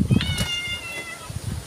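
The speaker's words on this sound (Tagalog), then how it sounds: "Ay, ano ka bagang pusa ka?" A cat meows a few times close by on a rainy day in the provinces, short rising cries over soft background noise.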